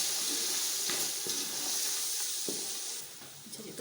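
Green chillies and crushed red chilli sizzle loudly in hot oil in a frying pot, a dense close hiss with scraping stirring strokes that eases slightly near the end.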